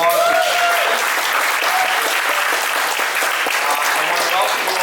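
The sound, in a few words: audience applause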